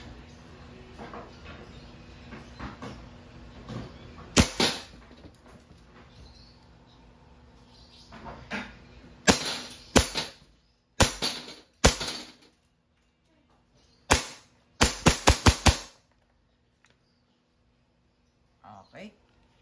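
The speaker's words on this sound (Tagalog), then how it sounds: "Okay, firing." A WE 2011 Hi-Capa T-Rex silver semi-automatic airsoft pistol fired at a target in sharp, close cracks, some single and some in quick bursts of three to five, with someone talking between the shots.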